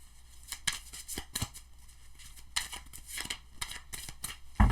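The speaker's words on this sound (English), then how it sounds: "2 more shuffles." Tarot cards are shuffled close by in a few quick riffling bursts, crisp flapping rustles separated by short pauses, with no voices.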